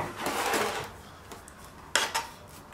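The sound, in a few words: offset spatula spreading marshmallow in pan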